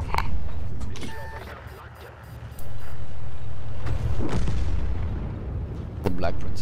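Heavy artillery impacts in World of Tanks, with deep booming blasts around 2.6 s and again near 6 s over a constant low tank engine rumble, along with some talk.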